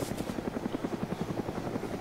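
Rapid, even rotor thumping of a helicopter in the video game ArmA 2, a steady pulsing chop with a low engine drone beneath it, close and continuous for a couple of seconds without voices.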